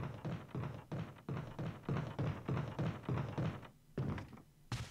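Door sounds in the Resident Evil HD Remaster video game: a steady series of about a dozen soft, muffled thunks at a regular rhythm, moderately quiet and close, ending with a sharper final knock.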